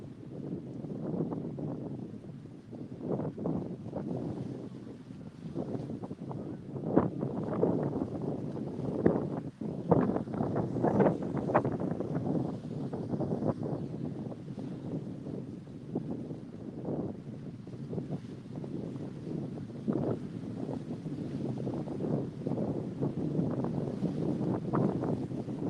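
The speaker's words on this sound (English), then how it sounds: "watching me stick it out in this windstorm" Strong gusty wind buffets the microphone during a windstorm on Lake Eufaula while fishing for blue catfish from a boat, a continuous loud low rumble with surging gusts and no talking.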